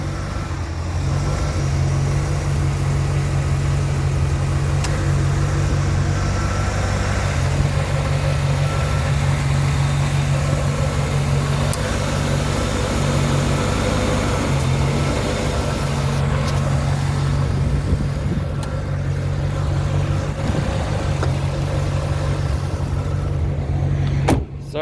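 A 1996 Chevrolet Corvette LT4 coupe's 330-horsepower V8 runs at a steady idle, a continuous low rumble holding close and even throughout with no voices over it.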